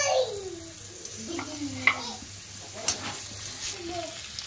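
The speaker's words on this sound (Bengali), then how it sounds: "ওতে আমি দিয়ে দেব এবার রসুন বাটা" Garlic paste hits hot oil in a wok (kadai), a moderate sizzle with a few spatula scrapes and clinks over steady frying noise; faint voices murmur in the background.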